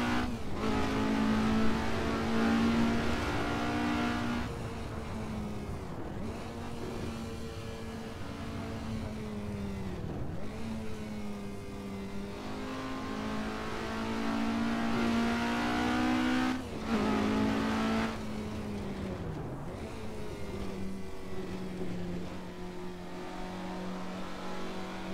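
Alfa Romeo Giulia GTA racing engine in the Assetto Corsa racing game, a sustained high revving drone that rises and falls through repeated gear shifts and throttle lifts, steady and prominent with no talking.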